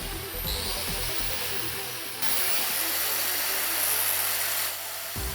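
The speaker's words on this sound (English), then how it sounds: "We're also going to connect an angle grinder that operates at 220 volts and requires 800 watts of power" A 220-volt, 800-watt angle grinder runs steadily with a high, even whine, growing louder partway through and holding a constant drone before cutting off near the end.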